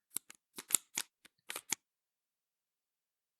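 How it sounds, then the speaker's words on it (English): Cards from a Disney Villainous board game are shuffled back into a deck, making a quick series of soft snapping riffles and taps close by for about two seconds, followed by silence, with no talking. "there we go, shuffling the Doctor back into the deck"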